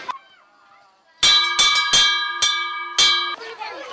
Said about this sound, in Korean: 종소리가 무슨 신호라도 알리듯 뛰어나오는 아이들